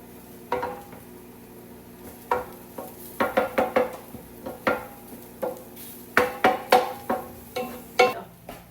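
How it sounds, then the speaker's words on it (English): Utensil scrapes and clinks against a pan as onions and mushrooms fry, about a dozen sharp taps and stirs at irregular intervals over a faint steady sizzle, close and clear with no talking. "I really want to make sure that the onions are very grilled"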